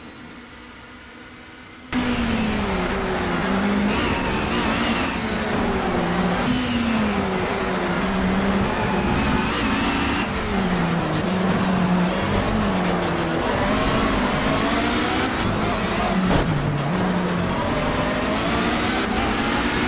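A Lotus race car in a racing video game roars around the Nürburgring, its engine note rising and falling steadily through gear changes, loud and continuous after a quiet opening two seconds.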